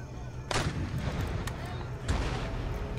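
Artillery cannons firing round shot in the video game Empire Total War, two heavy booming blasts about a second and a half apart over a constant low battlefield rumble.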